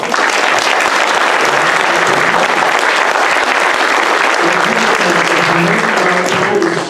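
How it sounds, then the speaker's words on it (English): Sustained applause from an audience fills the space, a dense steady patter of many hands clapping without a break. "Let's give the panel a round of applause"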